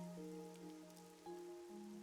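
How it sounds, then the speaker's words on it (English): Steady rain patter in the video game Master Detective Archives: RainCode, faint and continuous beneath sustained tonal music, with no voices. "The rain, it never stops."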